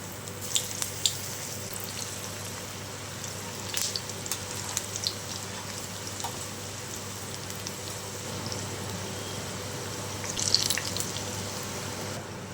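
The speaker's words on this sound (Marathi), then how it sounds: "इथे मी कढईमध्ये तेल ठेवलेलं आहे त्यामध्ये आपण ही डीप फ्राय करून घेऊया" Colocasia leaf vadi deep frying in oil in a kadhai, a continuous soft crackling sizzle with occasional sharper pops and spatters over a low steady hum, no voices.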